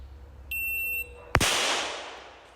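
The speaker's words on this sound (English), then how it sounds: "We're going to come up and we're going to fire 2 rounds in 3 seconds." A handgun fires a single sharp, loud shot at an indoor range, following a brief electronic shot-timer beep; the blast rings out and decays slowly through the room.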